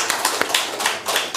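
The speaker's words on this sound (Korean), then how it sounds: "박수하겠습니다." A congregation claps at a church New Year's Eve service, with dense, close hand claps in an irregular patter throughout.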